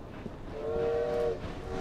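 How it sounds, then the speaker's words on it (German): A train in Assassin's Creed Syndicate sounds a sustained whistle that holds for nearly a second over a low rumble of rolling wagons, heard without speech. "Oh, der Zug."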